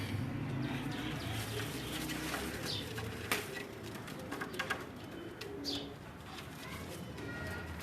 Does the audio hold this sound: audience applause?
no